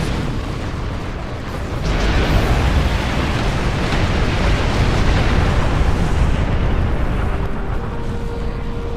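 A space station explodes in the video game Star Trek Online, a loud, sustained roaring blast with a deep rumble that swells after a brief lead-in and stays dense and powerful throughout.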